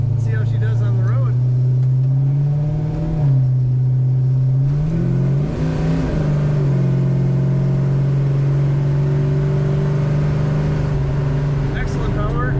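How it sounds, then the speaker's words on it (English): A 1968 Dodge Charger R/T V8 cruising on the road, its deep exhaust rumble droning steadily with a couple of rises in revs as it accelerates, close and loud inside the car. "This car sounds great. We have such a good exhaust sound."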